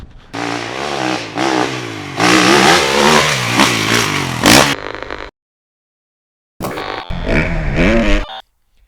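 A 2022 Kawasaki KX450X dirt bike engine revs loudly up close, rising and falling in repeated throttle blips, then cuts out to silence before another sharp burst of revving.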